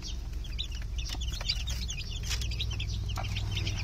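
Gamefowl hens and chicks cluck and peep at close range, a busy stream of high chirps and soft clucks over a steady low farm hum.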